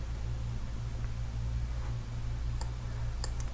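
A handful of sharp mouse clicks on a computer running Kali Linux, with two or three crisp clicks near the end over a constant background hiss and hum.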